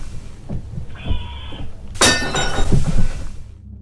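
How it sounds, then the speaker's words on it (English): A pot shatters into pieces with a sudden loud crash and scattering debris, followed by a short clatter of fragments settling before silence. "As he watches, it suddenly shatters into pieces."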